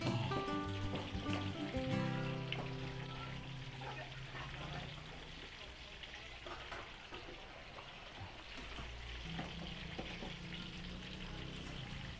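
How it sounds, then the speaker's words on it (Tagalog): Steady crackling sizzle of Shanghai-style spring rolls frying in hot oil in a pan, a constant hiss with a few clinks and faint voices at the start. "Prito na po natin dito yung ating lumpiang Shanghai sa kabilang kawali."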